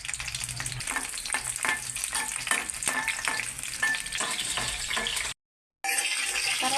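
Green chillies fry in hot oil for a small prawn fry, with a dense bright sizzle and rhythmic stirring scrapes, broken by a short silent gap near the end before the sizzling resumes.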